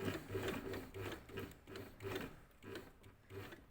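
A sewing machine stitches a seam on summer shorts, running steadily with a rhythmic, repeating mechanical whir and clatter in short pulses, fairly quiet and close, with no voices.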